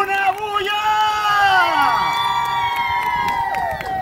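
A crowd at the Funfest 2019 Dominican community festival in Hazleton cheers loudly for a performer, with high whoops and shouts, some from children, rising and sliding above a steady bed of crowd noise.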